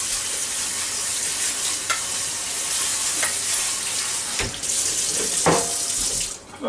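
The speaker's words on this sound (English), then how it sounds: "we'll pour them in this colander, and we'll go over here and rinse them off in the sink" A steady, loud stream of water from a kitchen sink tap rinsing black beans in a colander, a continuous hiss and splash with occasional rattling from the beans being shaken.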